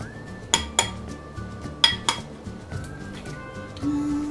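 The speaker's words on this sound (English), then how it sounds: "you just tap around the edge" An egg being tapped around its edge against a bowl or hard surface while baking cookies: a series of sharp, bright clinks spaced unevenly, moderately close, over faint background sound.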